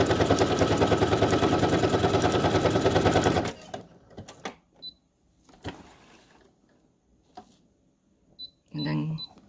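A sewing machine running steadily, stitching around the edges of fabric journal tags, a loud continuous whirring rattle for several seconds, then stopping into quieter handling clicks and a voice.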